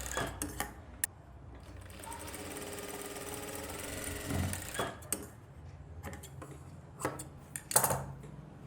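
A sewing machine stitches a quarter-inch seam on a blouse in a tailoring setup, giving a steady mechanical whir with brief clicks and clatters, moderately close and heard alone without talk.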